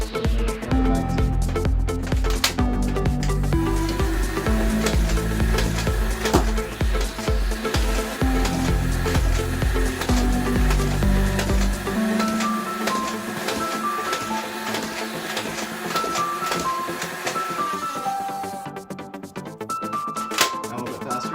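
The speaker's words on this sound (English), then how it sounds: "Now firing blue Nerf elite darts." A Dart Zone Thunderbolt motorized toy blaster fires blue Nerf Elite darts, its motor whining loudly with rising and falling pitch and a rapid mechanical clatter, then spinning down near the end.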